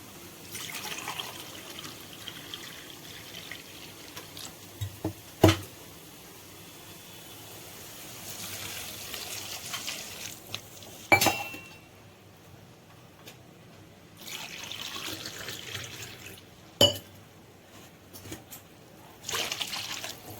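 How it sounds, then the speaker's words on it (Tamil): Two glasses of water poured into a pan for wheat rava kichadi, heard as a few separate splashing, trickling bursts with sharp clinks between them, close and moderately quiet, with no talking. "ரெண்டு கிளாஸ் தண்ணியும் போடுறோம்"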